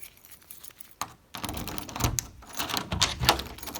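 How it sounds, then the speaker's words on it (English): A key turns in a newly installed ACE Hardware entry door knob lock, giving several close, crisp mechanical clicks and rattles over a few seconds with no talking. "I'll go ahead and lock it. And I'll use the other key."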